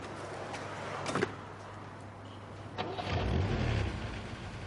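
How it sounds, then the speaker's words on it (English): A red Mark I Ford Capri's engine starts outside, a muffled crank and catch that settles into a low idle, heard from indoors at moderate distance over steady background hiss, with no talk. "heard the sound of a car starting"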